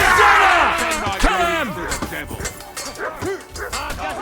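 A dog barks and yelps during a fight in Kingdom Come: Deliverance 2, sharp repeated bursts mixed with shouting voices and combat noise.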